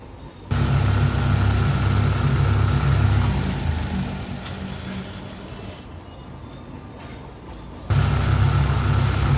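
A rewound ceiling fan motor runs on test, giving a steady low mechanical hum with a faint whir that dips slightly midway and then returns at full level.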